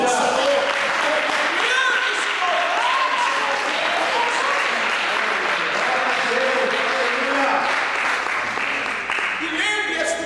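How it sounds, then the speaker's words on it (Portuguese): Congregation at a church night vigil breaking into sustained, dense applause, filling the hall at steady loudness for the whole stretch, with cheering voices mixed into the clapping. "dê mais uma salva de palmas para o Senhor"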